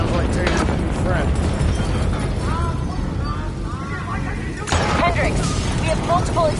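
Explosions rumble through a facility in Call of Duty Black Ops 3, a dense roar of blasts and crashing debris with a sharp new burst partway through, while voices talk over the din.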